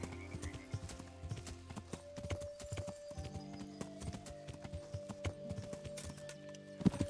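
Horse hooves clip-clopping steadily in the medieval game Kingdom Come, a continuous rhythmic clatter over low game music drones, with a brief neigh near the end.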